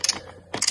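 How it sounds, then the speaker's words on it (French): A size 10 wrench tightens a seat screw during a seat installation in a Tesla Model X, giving short metallic ratcheting bursts at the start and end with a quieter gap between. "Clé numéro 10."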